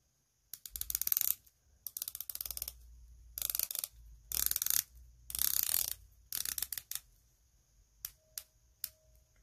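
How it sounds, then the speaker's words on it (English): The Timascus bezel on a Zelos Swordfish watch with a meteorite dial clicks in quick bursts of dense ratcheting, several turns in a row, close and crisp, then a few single clicks at the end. "I let you hear the bezel already a little bit."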